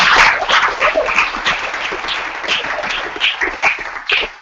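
An audience claps at a visual effects student showcase, a dense patter of hand claps lasting several seconds with a few louder swells and no clear speech.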